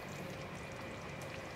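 A steady, soft stream of water pours continuously into a cooking pot for a moment, fairly quiet and unbroken.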